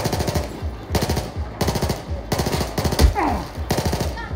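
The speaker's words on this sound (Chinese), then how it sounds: "对面有狙击手系咁喺度射喎" Automatic gunfire in the video game Battlefield 4 comes in rapid, repeated bursts, loud and close, with a brief extra impact partway through and no clear talking.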